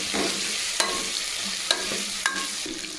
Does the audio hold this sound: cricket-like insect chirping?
no